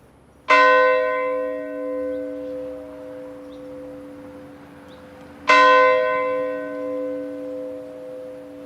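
Church bell tolled in memory of Titanic victims, two loud, ringing strikes a few seconds apart, each with a long, slowly fading resonance in a quiet setting.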